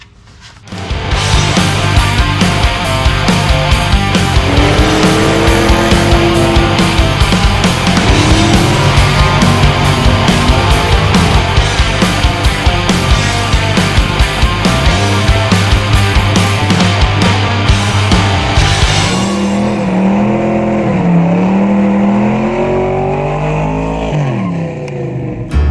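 An LS V8 truck engine with an upgraded intake revs hard and close, rising and falling through repeated throttle blips for about twenty seconds before settling back toward idle, with no talk.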